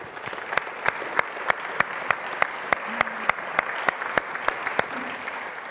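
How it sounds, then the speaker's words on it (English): Audience applause at a social summit in Porto for a commissioner for social affairs, opening as scattered claps and settling into a steady, fairly rhythmic clapping with sharp individual claps standing out, continuous throughout. "Nicolas Schmid, our Commissioner for Social Affairs, really deserves a big round of applause"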